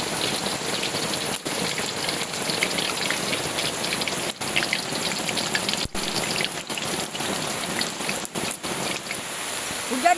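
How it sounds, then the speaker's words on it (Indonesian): Heavy downpour in a forest at a campsite, a dense continuous hiss of rain drumming on surfaces with scattered sharp drop hits, loud and close throughout. "Hujannya sangat deras. Tiba-tiba hujan deras datang."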